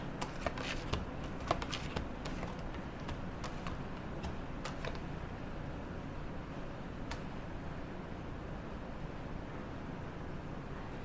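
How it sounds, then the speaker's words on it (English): Tarot cards are shuffled and drawn, giving soft, close riffling and crisp flicks near the start, then a faint, steady papery rustle. "I'm gonna pull a few more cards and just sort of build on this read here."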